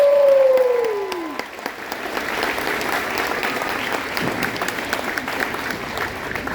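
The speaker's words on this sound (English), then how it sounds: "let's give a round of applause for our 5th grader band." An audience applauds a 5th grade band at a school concert, with whoops and cheers; a falling sung or whistled note opens before loud, sustained clapping fills the hall.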